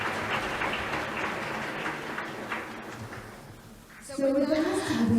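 Audience applause at the opening ceremony of the 2024 Jeonju Future City Forum, a dense, steady patter of many hands for about four seconds before it thins and a voice comes in near the end.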